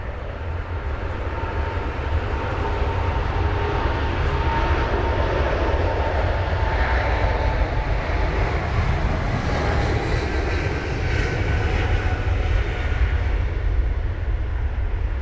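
A British Airways Boeing 777-300 jet departs London Heathrow on a wet day, bound for Tokyo, with a loud, steady, broadband engine roar and spray hiss that fills the whole stretch without a break.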